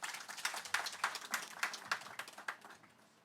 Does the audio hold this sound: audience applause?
yes